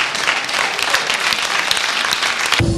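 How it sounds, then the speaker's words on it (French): An audience bursts into steady, dense applause after a stage show, a continuous wash of many hands clapping at close range that cuts off abruptly near the end. "On peut les applaudir!"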